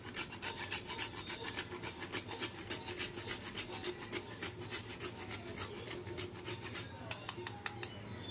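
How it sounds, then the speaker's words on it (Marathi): Whole nutmeg rubbed against a hand grater for a traditional Ashadh-month kapnya snack, a steady rhythmic rasping with quick repeated strokes that stays close and continuous throughout. "आता आपण हे जायफळ किसून घेऊया ह्याच्यात"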